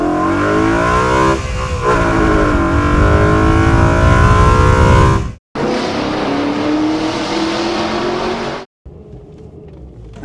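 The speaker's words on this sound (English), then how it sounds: "That's what this engine is. It's a musical instrument." A BMW M3 V8 revs hard while driving, loud and close, its pitch rising and falling through gear changes, with two abrupt cuts to near silence followed by a quieter engine tone.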